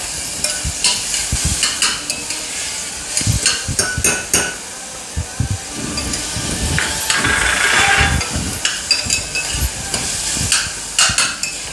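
Ginger, garlic and green chili paste sautéing in a pan, with steady sizzling and repeated scraping and knocking of a spoon against the metal, close and fairly loud, no talking.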